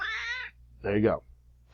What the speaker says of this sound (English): If you hear a loud noise, that's my cat.